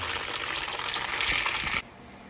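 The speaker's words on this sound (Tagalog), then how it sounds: "Sakto 30 minutes ang ating pagpiprito." Tofu frying in a pan, a steady close sizzle and crackle of hot oil that cuts off abruptly near the end.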